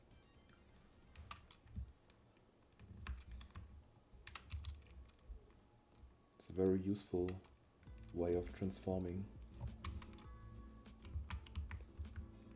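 Computer keyboard keys clack in scattered bursts while someone works on editing transformation points, with quiet single taps and short flurries throughout. Someone speaks over the typing during the middle portion.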